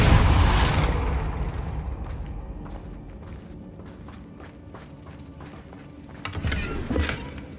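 Depulso force spell cast in Hogwarts Legacy, a loud burst at the start that fades over about a second, followed by quieter game ambience with faint thuds and a second rise of impact noise near the end.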